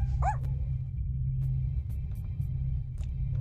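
A video-game dog barks once sharply near the start, followed by a few short yips and whimpers over a steady low game hum.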